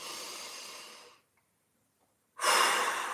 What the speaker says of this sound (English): Inhale and exhale. Inhale. 3 more big breaths.